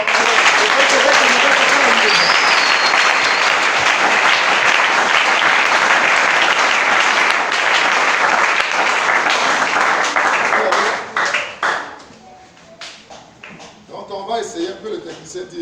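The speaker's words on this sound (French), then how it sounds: "On peut applaudir pour la parole." A church congregation applauds steadily and loudly for about eleven seconds, the dense clapping then fading into scattered claps and quiet voices.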